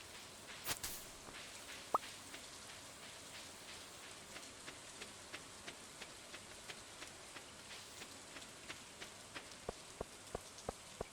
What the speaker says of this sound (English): Poor Penny, sitting alone in the rain